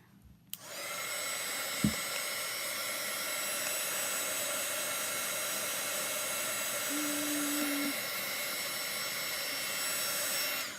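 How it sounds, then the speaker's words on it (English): A handheld heat or hair dryer blows steadily across chalk paste on a spring-flower craft project, a loud continuous whoosh that starts abruptly and runs alone with a faint brief knock partway through. "I'm gonna dry this with the dryer"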